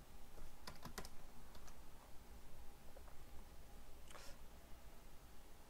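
Scattered keyboard key clicks in short bursts, faint against a steady background hiss, with gaps between the presses.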